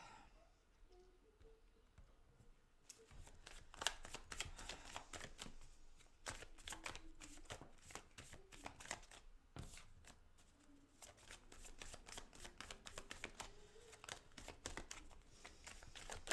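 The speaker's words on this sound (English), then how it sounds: "I'm just going to give the cards a bit of a shuffle" Tarot cards from an Elizacle deck riffle and slap together in steady bursts of crisp, close shuffling, with brief pauses between handfuls and no talking.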